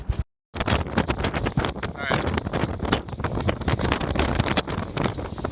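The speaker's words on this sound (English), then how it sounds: "It is so windy up here." Strong wind on a White Mountains summit roars hard against the microphone, steady and loud, after a brief silent gap at the start, with gusty surges throughout.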